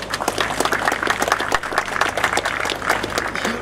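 An audience at a university graduation ceremony applauding, a dense, steady crowd clapping that stays loud and even throughout.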